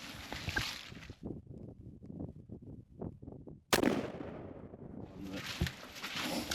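A single shotgun blast fired for a pattern test with a TSS load, one sharp close boom followed by a decaying rumble, set among outdoor wind and handling noise with no talking.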